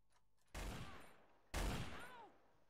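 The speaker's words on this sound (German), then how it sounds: "Ich sehe Schüsse." Two loud gunshot bursts in the video game Trouble in Terrorist Town, each a sharp blast about a second apart followed by a decaying rumbling tail and a ringing whine.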